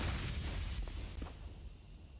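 A grenade blast in a Counter-Strike esports match, a broad rumbling boom that sustains and slowly fades over about two seconds, with faint game noise and no clear talk.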